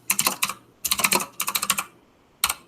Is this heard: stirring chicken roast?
no